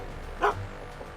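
A single short bark from a dog in the Back to the Future video game, a quick mid-pitched yap close by against a quiet background.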